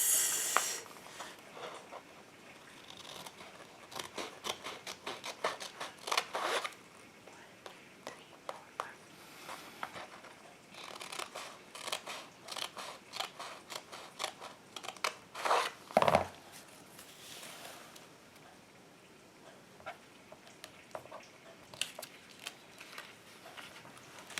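Scissors cutting blue paper pieces for a planner, giving close, quiet, irregular snips and paper rustles in scattered bursts, with occasional soft speech.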